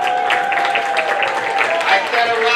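Audience at a kids' costume contest claps in a crowded hall, a dense patter of applause with a loud amplified voice speaking over it the whole time.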